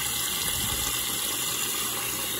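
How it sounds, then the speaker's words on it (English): Lukewarm tap water pours into a pot for cooking eggs, a continuous close rushing gush with a steady hiss and no talking. "Put some lukewarm water in here."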